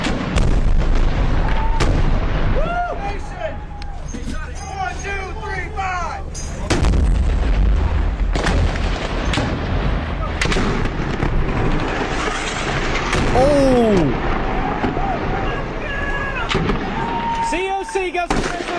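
Bomb blasts and heavy artillery fire from the Battle of Fallujah, loud booming impacts repeating throughout amid chaotic combat noise, with speech and radio chatter layered over the explosions.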